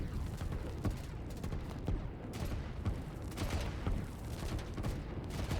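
Video game battle with three commandos attacking an artillery piece under intense fire, dense rapid gunfire and explosions crackling continuously and loudly throughout, no clear talk.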